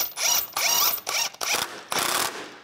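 A ratchet tightens bolts on the serpentine belt tensioner of a 2006–2011 Cadillac DTS, with five short bursts of loud, close metallic clicking separated by brief pauses.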